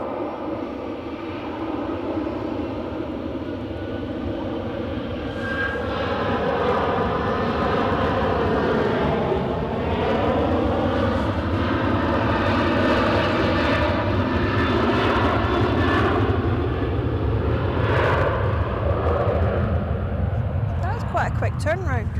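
An airliner jet taxiing at Edinburgh airport gives off a steady, loud engine drone and whine that swells slightly as it moves, heard from a moderate distance.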